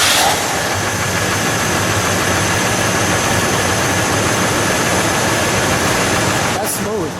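A 1970 Buick GS 455 V8 runs at a steady, loud idle right up close, a continuous low rumble that holds evenly throughout with a brief change near the end.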